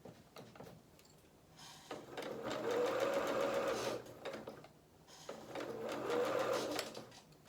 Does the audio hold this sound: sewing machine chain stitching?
yes